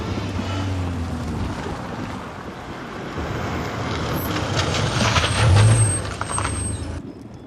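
A truck rumbles nearby with a low, steady engine drone and a rising surge around the middle, then a short hiss before the sound drops away at the end.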